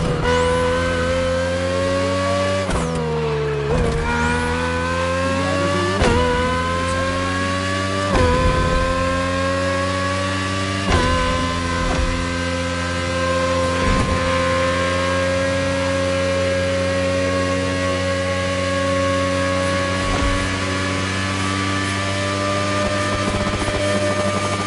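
Race car engines in The Crew Motorfest on a Hawaii course, a loud sustained engine drone with strong harmonics that dips and climbs through several gear shifts, then holds steady near the finish, with no talk.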